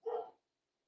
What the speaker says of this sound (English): I got to go let the dog in.